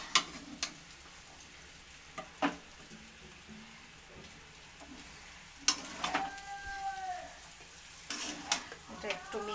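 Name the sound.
stirring chicken chow mein in a pan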